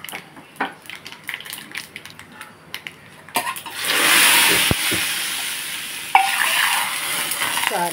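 Tempering (popu) for rasam hits hot oil in a pan, bursting into a loud, sustained sizzle after a few clinks and stirring taps, with a sharp jump in intensity near the end.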